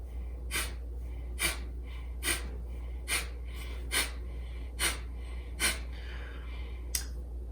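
Rapid breath of fire breathing exercise: sharp, forceful nasal exhales at a steady rhythm of roughly one per second, close and alone over a low hum.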